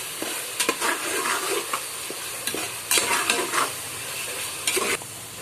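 Green chillies sauté in a pan for chicken biryani, crackling and sizzling up close while a spatula scrapes and clacks against the metal in irregular bursts, and no one speaks.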